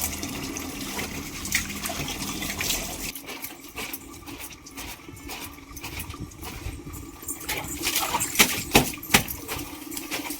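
Tap water runs and gushes steadily, a continuous splashing rush with faint clattering in the background, no voices.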